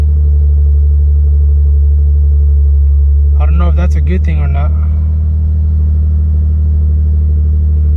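A car engine fitted with bigger E85 fuel injectors idling with a loud, steady low rumble throughout, while someone speaks briefly over it.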